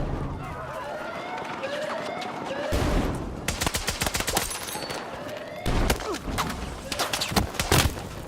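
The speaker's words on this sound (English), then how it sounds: "So I can kind of like strafe left and right and shoot at the same time." Rapid automatic gunfire in the video game Battlefield 6 crackles in loud, dense bursts separated by short pauses, with game ambience and footsteps underneath.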